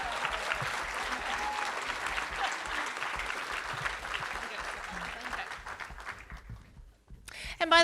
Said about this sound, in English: Let's have one more round of applause for our business category finalists this year.